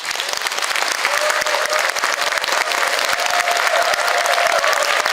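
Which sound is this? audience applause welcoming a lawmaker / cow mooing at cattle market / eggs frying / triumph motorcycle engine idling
audience applause welcoming a lawmaker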